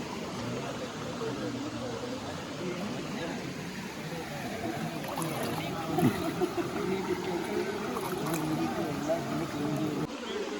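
Water rushing at Dhoni waterfalls in a forest, a steady close broadband roar with a voice briefly audible over it.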